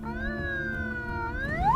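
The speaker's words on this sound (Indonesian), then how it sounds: "Sirine patroli mulai dinyalakan." A patrol boat siren wails, holding a steady tone, then sweeps upward near the end, sounding fairly close and loud with a rumbling engine beneath, at sea off Anambas, Indonesia.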